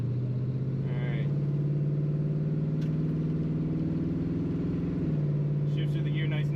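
A classic Ford Mustang engine hums steadily at a low, even drone while the car shifts gears, with a slight change in tone near the end. Someone talks over it at intervals.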